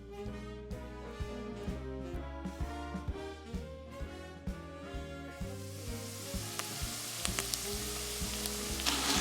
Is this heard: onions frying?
yes